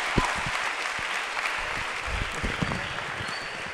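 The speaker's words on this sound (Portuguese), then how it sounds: "palmas aí, galera" A church audience claps in a steady, moderately loud round of applause, with scattered sharper claps and low thumps through the roomy space.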